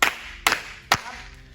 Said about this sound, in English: Give yourselves 3 claps.